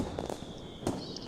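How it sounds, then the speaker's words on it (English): Fireworks in the visual novel game Katawa Shoujo crackle and thump at a distance, a few muffled pops and bursts over a low steady rumble and background hiss. "Oh, that's the fireworks!"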